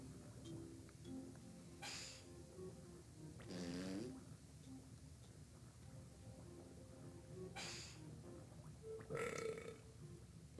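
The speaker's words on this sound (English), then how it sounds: "Okay, burp." Burp sound effects in the Donkey Kong 64 video game, a few separate raspy bursts spaced apart over quiet game background, with no voices.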